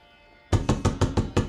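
Knocking on a house door, six firm evenly spaced raps close by, following a brief faint hum.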